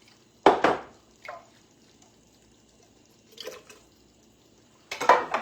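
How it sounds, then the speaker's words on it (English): Water splashes and swishes inside a can being rinsed out, in three short bursts separated by quiet pauses, close and fairly loud. "Rinse your can out with the water."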